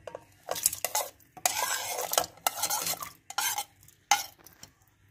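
Chopped onion and peeled garlic are dropped and stirred into a metal pressure cooker, giving close, irregular bursts of scraping, clattering and a faint sizzle separated by short pauses.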